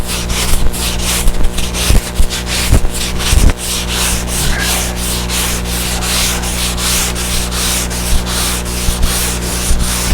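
Steady, rhythmic sanding with a rasping back-and-forth stroke, close and loud, with a few sharp knocks early on.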